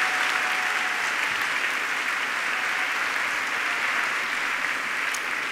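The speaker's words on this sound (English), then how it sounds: "So a big round of applause and thank you for our sponsors." Even, continuous applause from a large audience thanking sponsors at a young scientists exhibition, a steady wash of clapping heard from a distance at moderate level throughout.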